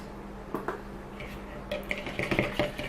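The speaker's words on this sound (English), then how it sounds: "Give that a little stir" A spoon stirs an almond hook bait mixture in a bowl, giving a few light scrapes followed by a quick cluster of close clinks against the bowl.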